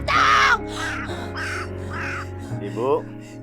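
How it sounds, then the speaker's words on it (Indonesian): A crow caws several times in quick succession, loud and close, while a voice talks over the calls. "Gua gak mau Gagak ini ada di sini."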